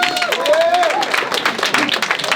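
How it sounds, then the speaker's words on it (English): Residents at the 13th annual 4th District block captain boot camp rally applaud their block captains with close, lively clapping, while a rising whoop or whistle cuts through near the start. "So can we give a round of applause to you?"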